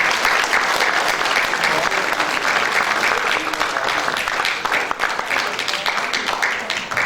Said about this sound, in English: Why don't we give them one more big round of applause?